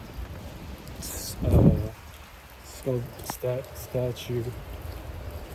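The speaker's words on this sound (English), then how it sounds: "it's raining even more than it was earlier" Rain patters steadily on a Budapest city street, a constant hiss under a nearby voice speaking briefly and a few passing chirps.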